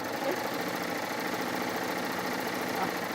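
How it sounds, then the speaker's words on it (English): A serger sewing machine runs fast and steadily while stitching quilt pieces, a continuous close mechanical whir with a faint rapid rattle throughout. "I love this serger. Don't you love I love the sound of the serger, but LeeAnn's doing really fast"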